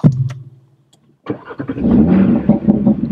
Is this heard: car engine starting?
yes